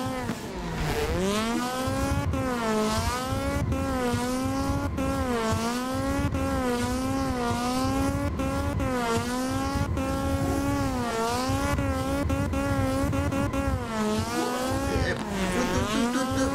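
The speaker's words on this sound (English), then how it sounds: "Banging off the rev limit." A 268 bhp Toyota AE86 in Assetto Corsa drifts at Brooklyn Park, its engine revving high and repeatedly bouncing off the rev limiter in a harsh, stuttering wail, with occasional tyre squeal underneath.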